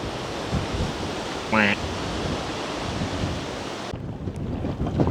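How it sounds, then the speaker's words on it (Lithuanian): Wind roars steadily across open water, a broad rushing noise with buffeting on the microphone and a brief faint call partway through. "Nu tai vėjas."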